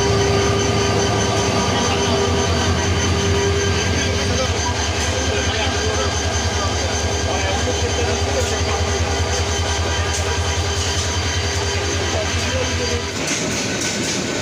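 Tista Express train number 707 leaving Mymensingh railway junction, bound for Jamalpur, with a steady loud rumble and rhythmic clatter of wheels throughout before the noise drops away near the end.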